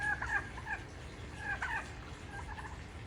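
Chickens in a yard during icy, sleety weather, clucking in short repeated bursts at moderate distance against a steady low outdoor rumble, no talking.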